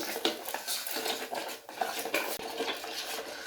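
Macaroni stirred in a cooking pot, a spoon scraping and clinking repeatedly against the metal in quick, uneven strokes, close and fairly loud with no talking.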